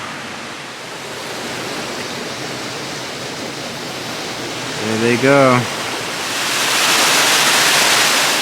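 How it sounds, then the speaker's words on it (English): Water pours over a waterfall in a steady, heavy roar of rushing noise that swells louder toward the end, with a brief spoken phrase partway through. "So that water's not flowing as heavy as it did a few weeks back, but it's still going pretty good."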